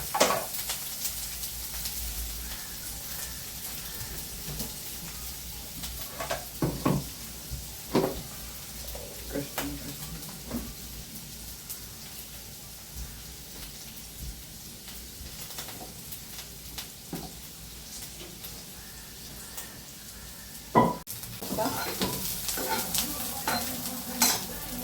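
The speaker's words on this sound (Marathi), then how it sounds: "आणि आता पॅनमध्ये थोडंसं तेल घालायचं आहे आणि हा कांदा टाकून द्यायचा आहे." Chopped onion cooks in a little oil in a pan on a gas stove, a low steady sizzle dotted with irregular crackles and occasional clinks of a utensil against the pan, heard close with no talking.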